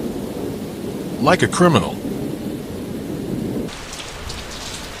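Steady heavy rain with thunder rumbling in a village setting, a continuous loud hiss that dominates throughout, with a voice speaking briefly over it.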